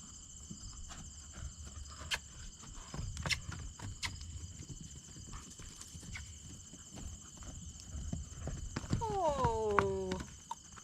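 A horse canters on the lunge line, its soft hoofbeats thudding at an even rhythm with a few firmer strikes. Near the end a short whinny rises over the hooves, and the whole scene stays quiet and fairly distant.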